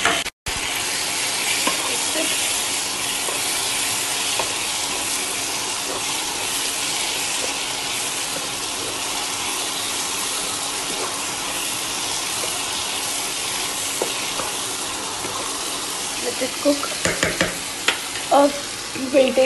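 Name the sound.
tomatoes frying and being stirred in a pan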